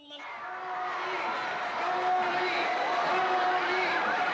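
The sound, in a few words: crowd welcoming President Aquino at a soccer stadium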